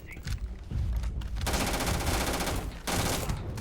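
Sustained automatic gunfire from a weapon in the sci-fi game Starfield, loud and dense, rattling in long continuous bursts with a brief break before resuming.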